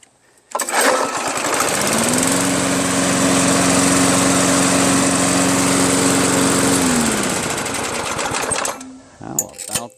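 A Craftsman 3.5 HP Tecumseh lawn mower engine with a freshly cleaned carburetor, new gasket and needle runs steadily and loud for several seconds, then cuts off, followed by brief clatter.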